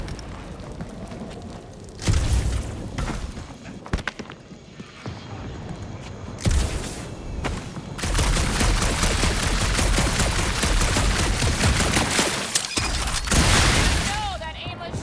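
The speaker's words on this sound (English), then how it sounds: "that aimless shooting isn't gonna scare the monsters away" Weapon fire in the Guardians of the Galaxy video game on a dark monster-filled planet: a few heavy booms, then a long burst of rapid, dense shots over a steady rumble, with game voices mixed in.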